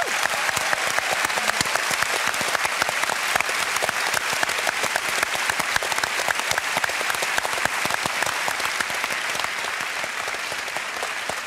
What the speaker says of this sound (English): A big round of applause also for this wonderful West Australian audience.